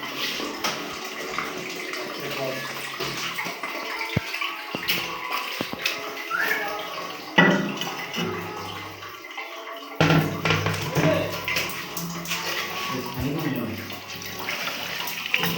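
Water runs steadily from a tap in a newly finished bathroom in a continuous rushing stream, with someone talking intermittently over it.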